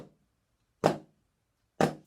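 Two crisp flams are played with a pair of sticks on a practice drum pad. Each sounds as one tight, sharp strike, close and clear, and the two strikes are about a second apart against silence.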